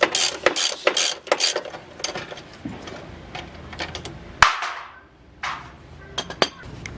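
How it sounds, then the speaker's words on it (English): Ratchet clicking off the 17mm upper ball joint nut on an Acura TL, a run of quick, close mechanical ticks and clatters in short bursts with brief pauses between. "Now we can go ahead and take the rest of the nut off and everything else."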